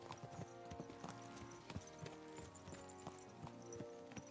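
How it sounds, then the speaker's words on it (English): Horse hooves clip-clop at a steady trotting rhythm in the medieval video game Kingdom Come: Deliverance II, over a layered music and ambience bed, moderately quiet. "Let's really spur these horses on, eh?"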